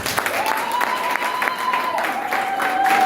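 Church congregation applauding the Lord during a crusade worship service, sustained clapping from a crowd running steadily throughout, with a held tone and some voices mixed in.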